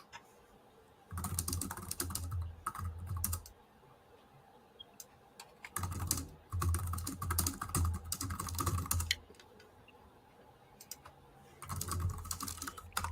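Fast, hard typing on a computer keyboard during a fantasy baseball best-ball draft: dense clattering bursts of keystrokes in three long runs separated by quieter pauses, close and loud, with no talking.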